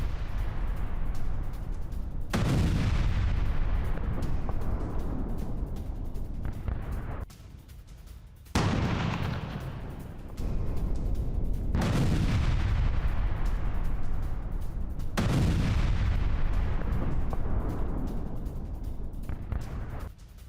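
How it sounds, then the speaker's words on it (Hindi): Several heavy, booming blasts destroy a building in Gaza, each a sharp deep onset followed by a long rumbling decay, recurring every few seconds with no voices. "आईडीएफ ने धमाके से कैसे इमारत को किया तबाह, देखिए"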